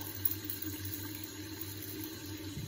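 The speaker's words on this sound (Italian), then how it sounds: "Quindi vado a far scendere un po' di acqua calda" Hot water runs steadily from a tap into a household sink, a continuous close hiss and splash with no talking.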